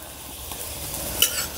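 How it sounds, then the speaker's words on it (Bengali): A cauliflower paratha fries in a pan with a little oil, giving a soft, quiet sizzle with light stirring and scraping sounds and a small clink near the end. "পরোটা ভাজতে কিন্তু একদমই বেশি তেল লাগে না, হালকা তেলেই দেখবেন খুব সুন্দরভাবে পরোটাগুলো ভাজা হয়ে যায়।"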